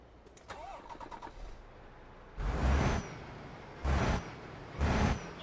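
A DAF XF Euro 6 truck starting up in Euro Truck Simulator 2, heard from outside: faint chirps and clicks, then a loud rumbling start followed by two more heavy revving surges with short pauses between.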